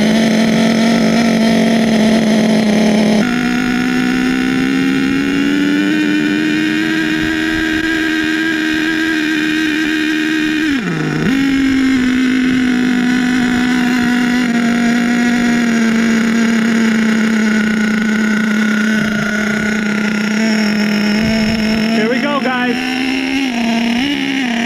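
An HPI Savage XL K5.9 nitro RC truck engine running on 30% nitro fuel holds a steady, loud, high-pitched drone for the whole stretch, with one brief dip in pitch partway through before it settles back.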